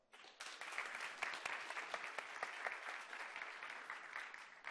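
An audience at the ZBrush Summit, a digital sculpting conference, breaks into sustained, even applause that carries on through the whole stretch without pause.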